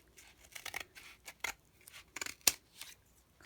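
Scissors snipping across a paper towel roll, a series of short crisp cuts at uneven intervals with one sharper snap near the end, close and fairly quiet with no talking.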